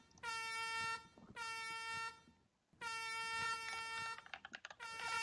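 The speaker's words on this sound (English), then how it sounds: "People honking the horn, getting a bit excited for the podium celebrations" Long, blaring horn blasts sound in the F1 22 racing game ahead of the Canadian Grand Prix podium celebration, three sustained honks with short gaps and a quick run of key clicks between them.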